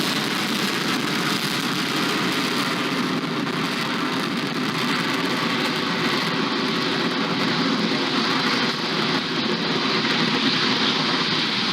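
A SpaceX Falcon 9 rocket's Merlin 1D engines roar during the ANASIS-II launch, a loud, steady, broadband rumbling thunder that holds unbroken with no voices.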